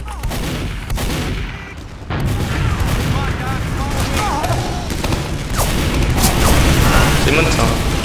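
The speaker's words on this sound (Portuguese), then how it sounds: "É só eu e o Pascal trocando tiro aqui" Rapid gunfire exchange in a video game shooter, with dense bursts of shots and booming impacts throughout, loud and close, while a player talks over the action.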